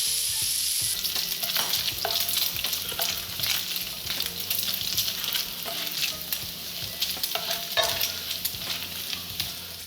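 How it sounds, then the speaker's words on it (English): Bacon crackles and sizzles in a pan while being broken up for a green bean casserole, a continuous close hiss dotted with sharp pops and scraping stir strokes, no voices. "This should take about 3 to 5 minutes, and then you'll have some nice crisped up bacon"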